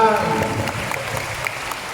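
Applause from a group at a political party rally, steady clapping across the whole stretch with some voices mixed in, moderately loud and close.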